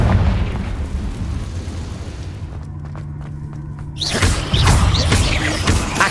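In the video game Hogwarts Legacy, a Confringo spell bursts with a loud, close, booming explosion, a heavy rumbling blast followed by another crackling burst near the end.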